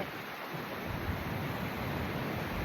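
Water pours through two opened dam gates as a loud, continuous rushing roar. It is broad and unbroken, like heavy surf, with no voices.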